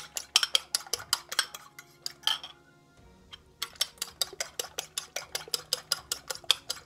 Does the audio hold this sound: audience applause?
no